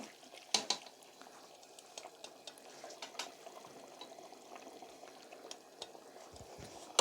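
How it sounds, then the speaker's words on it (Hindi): A spoon stirs beef yakhni pulao in a pot, giving soft scraping and occasional clinks against the metal over a quiet bubbling background. "एक दफ़ा चम्मच साइडों से चलाएं, एक दफ़ा बीच में से चला लें।"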